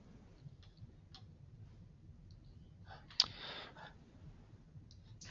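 Computer mouse clicks while working in genome browser software, a few faint, sparse ticks at a quiet desk with one sharper click near the middle and no talk.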